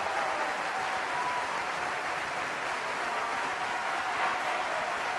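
A 'crowd goes wild' sound-effect button set off before a comedy event, producing a continuous roar of applause and crowd noise that stays level and full for several seconds.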